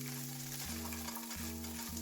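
Seasoned chickpeas fry in olive oil in a pan, a dense close sizzle and crackle with a low steady hum running underneath, and no one speaking.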